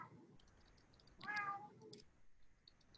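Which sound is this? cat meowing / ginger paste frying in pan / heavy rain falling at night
cat meowing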